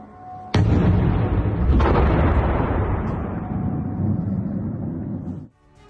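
Explosions during an Iranian drone attack near the US embassy in Baghdad: a sudden heavy blast, then a second boom under a second later, each rolling into a long, loud rumble that fades before cutting off.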